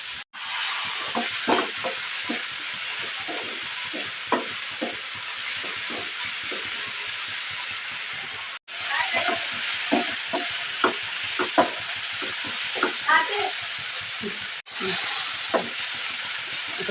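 Onions and tomatoes fry in a pan with a steady hiss and sizzle while a spoon scrapes and stirs in irregular knocks, all close up, with brief breaks in the sound.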